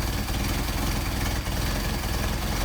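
A carbureted engine idles low with its idle set slightly under normal, a steady, continuous rumble at close range with no revving or other sounds.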